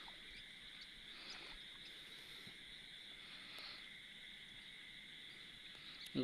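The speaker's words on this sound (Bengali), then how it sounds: "শুধু ঝিঝি পোকার ডাক।" Crickets chirp at night in dark countryside beside a fishing spot, a steady high trill running throughout with faint swells, alone with no voices.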